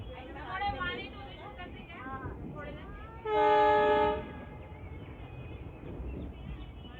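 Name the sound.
train running on the railway line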